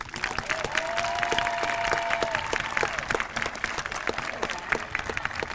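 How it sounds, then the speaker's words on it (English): An audience at an eighth-grade promotion ceremony applauds a homeroom class, a sustained patter of many hands with sharper individual claps throughout and a faint tone drifting underneath. "Let's recognize Profe's homeroom with a round of applause."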